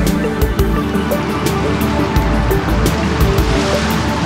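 Water pours steadily into a Göta Canal lock in Sweden as a boat is raised, a loud continuous rushing flow with a few sharp clicks and knocks over it.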